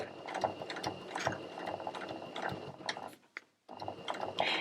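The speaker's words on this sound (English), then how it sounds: "you're going to sew all the way along your length of fabric and backstitch at the other end" A sewing machine runs in steady bursts as it stitches two layers of oil cloth fabric for a bag, with a brief pause near the end before the mechanical whirr resumes.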